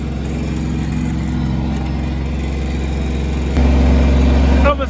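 A Kubota G231 ride-on lawnmower engine runs steadily at a close distance, cutting long grass, with a steady low drone that rises a notch in loudness near the end before cutting out.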